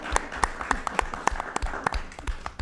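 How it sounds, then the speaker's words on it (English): A small studio audience at a college film faculty Q&A session claps for the panelists, with distinct, fairly sparse individual claps in an uneven rhythm, moderately quiet and close. "So please give our panelists and yourselves a round of applause."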